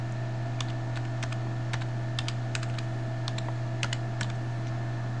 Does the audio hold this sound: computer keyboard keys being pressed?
yes